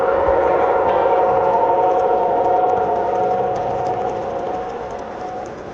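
A G-scale outdoor model train runs through a railway museum garden, giving a steady droning hum with a sustained whistle-like tone that stays close and loud before slowly fading.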